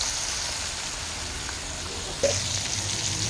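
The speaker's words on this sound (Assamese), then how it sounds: "কাৰৈ মাছ, মাগুৰ মাছ প্ৰথমতে অলপ ভাজি ল'ম।" Magur and kawoi fish fry in hot oil in a pan, giving a steady crackling sizzle with a brief sharp pop partway through.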